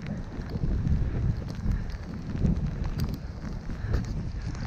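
Strong 30 mph wind on a cold beach batters the microphone in heavy, gusty low rumbles that surge and ease continuously throughout.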